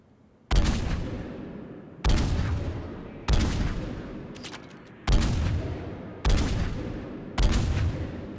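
Striker assault rifle in Mass Effect 3 firing six single heavy booming shots at a steady pace, each with a sharp attack and a long decaying tail, no speech.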